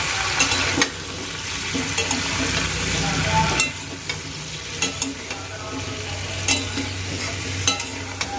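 Meat seasoned with salt, turmeric and chili powder fries in a pan, giving a steady sizzle punctuated by repeated scraping and knocking of a stirring utensil at close range.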